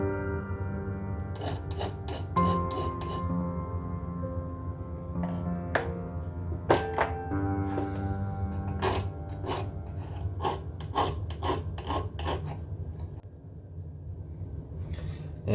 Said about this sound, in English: now I'm just going to shape it up with the file